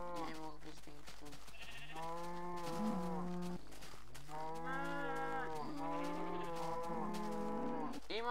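Minecraft cows moo in a string of drawn-out, low bellowing calls, several overlapping animals close by over a steady background tone.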